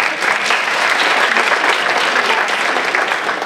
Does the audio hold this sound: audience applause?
yes